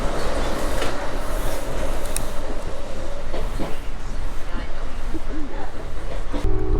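An Amtrak passenger train rolls toward Portland, Oregon, with a steady low rumble and rail noise running throughout, heard from inside the car, while people talk nearby over the constant hum.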